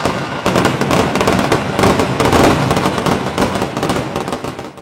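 A Thrissur Pooram fireworks display, moving from a massed burst of rapid firecrackers into aerial shells: dense, overlapping loud bangs and crackles rolling on without a break.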